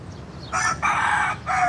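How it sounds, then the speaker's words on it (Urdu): A rooster crows loudly nearby, one drawn-out call broken into three strong bursts over a faint background hum. "اوہ، مرغے نے اذان بھی دے دی ہے یار"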